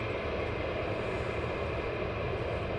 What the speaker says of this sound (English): And he's landing on runway 28 at Mildenhall.